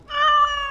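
A cat meows once in Dragon Age: Origins – Awakening, a clear, close, tonal mew that rises and then holds briefly before fading, alone without talk.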